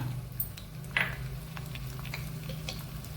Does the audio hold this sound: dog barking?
no